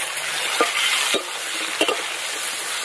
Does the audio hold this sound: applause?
no